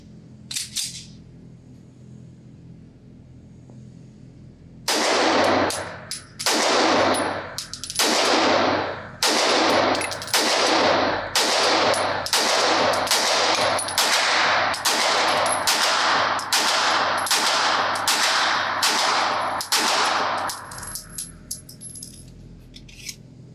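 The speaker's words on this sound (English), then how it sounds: "So I think putting a magazine through this gun to make sure it runs hollow points is really important." About fifteen evenly spaced shots from a Nighthawk Custom Sandhawk 2011-type pistol loaded with hollow point rounds. The sharp, loud cracks come in a steady rhythm after a quiet start, with a brief gap partway through.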